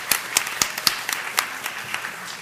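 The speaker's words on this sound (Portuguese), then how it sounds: "eu queria até uma salva de palmas para a nossa maestrina Marília" A brief burst of hand clapping from an audience at a 2013 Fórum Nacional special session, with several sharp claps ringing out against a low background murmur.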